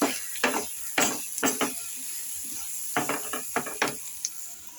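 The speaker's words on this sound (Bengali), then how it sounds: "এখন আমি পেঁয়াজটাকে এইভাবে ভাজা করব।" Onion frying in a pan with salt and turmeric, a soft sizzle beneath repeated scraping and stirring strokes of a spatula against the pan, in irregular bursts close by.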